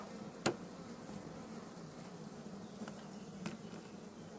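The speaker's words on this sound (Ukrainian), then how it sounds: "Ну видно, що тут є бджоли." Honeybees buzzing around an opened hive during queen replacement, a faint steady drone with a couple of brief closer passes, no talking.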